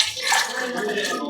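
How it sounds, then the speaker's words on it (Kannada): Heated water poured into a pot of chicken biryani, a short close rushing splash lasting about a second. "ನೀರು ಕಾಯಿಸ್ಕೊಂಡಿದ್ದೀನಿ. ಅದನ್ನು ಇದಕ್ಕೆ ಹಾಕ್ತಾ ಇದ್ದೀನಿ."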